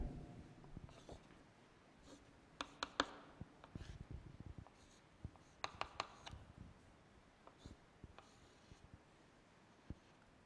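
Pen or marker writing on a surface during a chemistry lesson: faint, soft, irregular scratches and taps, close but quiet, against a low background hiss with no speech.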